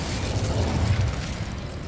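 Incendio fire spell cast in Hogwarts Legacy, a loud rumbling whoosh of flame with a deep bursting boom, close and sustained for about two seconds, no talk.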